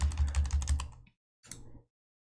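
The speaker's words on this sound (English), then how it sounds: "you can use your arrow key on your keyboard to step through" Arrow keys on a computer keyboard are pressed in a quick run of about six close, crisp clacks, then a pause and a shorter burst of taps, heard alone in a quiet room.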